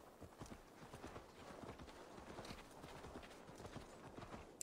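Horse hooves clip-clop steadily in the video game Assassin's Creed Valhalla, a brisk, regular rhythm of hoofbeats at a walking or trotting pace, faint and consistent throughout.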